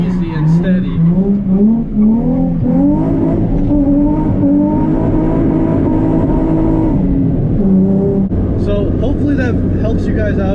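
Engine revving in rising and falling waves from a drifting car, with short throttle blips and a faint hint of tire noise, close and loud under someone talking throughout.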